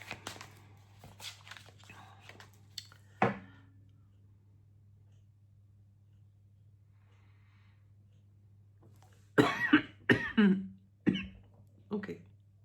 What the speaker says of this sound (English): I started to cough